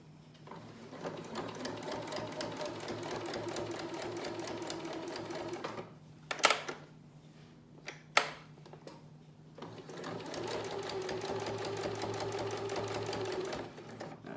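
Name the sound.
sewing machine stitching a fabric mask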